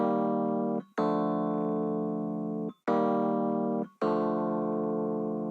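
Rhodes LA Custom electric piano chords from Keyscape inside Omnisphere: four long sustained chords, each struck cleanly and held with a warm, even tone, separated by brief gaps, with no voices.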